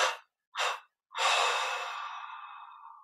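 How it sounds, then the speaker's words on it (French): Three breaths close to the mic: two short airy puffs followed by a longer, drawn-out exhale that slowly fades. "on prend une inspiration profonde par les narines, une expiration 3 fois par la bouche"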